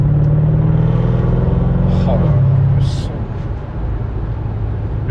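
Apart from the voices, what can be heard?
Mercedes C63 AMG engine and exhaust sound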